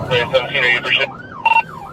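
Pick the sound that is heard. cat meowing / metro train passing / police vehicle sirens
police vehicle sirens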